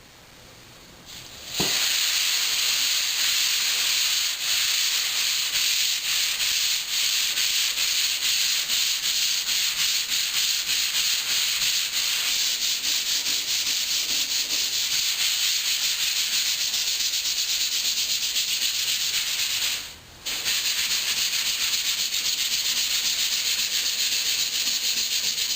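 Steady, continuous scratchy rubbing of a hand-held non-woven sanding pad on drywall, loud and close, running nonstop with only a brief pause near the end.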